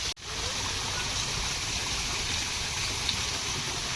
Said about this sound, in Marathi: एवढा सुंदर पाण्याचा पॉइंट आहे ना